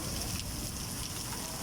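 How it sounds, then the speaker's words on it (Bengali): Heavy rain pours down steadily around a house, a dense, even hiss of water hitting surfaces throughout with no pauses. "এরকম বৃষ্টি হলে তো মনে করেন ঘরের ভিতরে পানি টানি পড়ে।"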